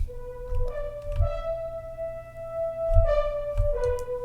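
Six-horn ensemble virtual instrument patch sounding a broad, layered brass line of held notes with a couple of pitch changes, moderately loud and close, low thumps beneath.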